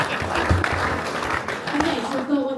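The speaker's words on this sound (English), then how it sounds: "Let's give him a round of applause." An audience at a Future Farmers spring debate claps in a dense, sustained round of applause, with voices murmuring underneath throughout.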